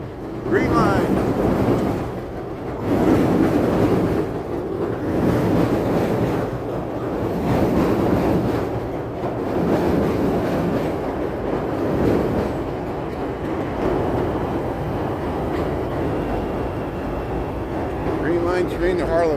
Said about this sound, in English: Here comes the train. It's going to get loud.